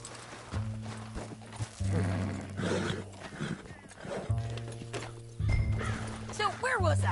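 Horse whinnies and clip-clopping hooves in the game Red Dead Redemption 2, set in a canyon during a chase, with game music and someone talking over the animal sounds throughout.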